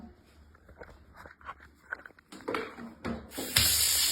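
Orchids are watered indoors: soft handling taps and shuffling give way to a rising, close gush of water that ends in a loud, steady rushing pour.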